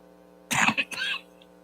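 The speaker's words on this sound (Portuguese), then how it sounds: "Perdão pela tosse, é acidental." A single short cough, close and fairly loud, bursts out in two or three quick rough pulses, then stops, over a low steady hum in a quiet church hall.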